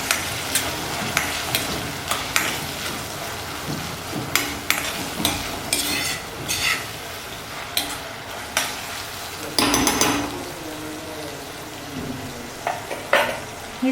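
Tomato added to browned onions and stirred in a pan for tambda rassa, a continuous close sizzle with frequent scraping spatula strokes and clinks against the pan, busy and fairly loud, with no voices.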